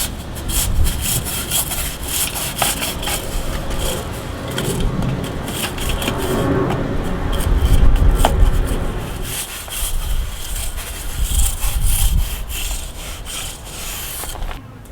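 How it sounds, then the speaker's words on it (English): A hard brush scrubs loose sediment off a masonry wall in a flood-damaged house, giving continuous loud, rough back-and-forth rasping strokes close up. "we're going to take a hard brush, and we're going to go ahead and get all this loose sediment off the side of the wall"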